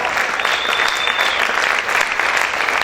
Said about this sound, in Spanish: Aplaude fuerte al Rey en esta hora.